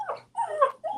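A dog growls low and then lets out whining whimpers, short close bursts separated by brief pauses, with no talk over them.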